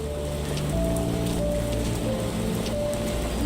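Steady rain pours down in the video game Sherlock Holmes The Awakened, a dense, even hiss of drops drumming on surfaces that runs unbroken throughout, with faint tonal game ambience beneath and no talking.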